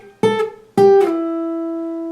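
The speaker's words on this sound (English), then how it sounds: "So the whole riff played with just my one finger would sound like this." A guitar plays a short riff fretted with a single finger, two picked notes followed by a slide up to a held note that rings out clearly and sustains alone.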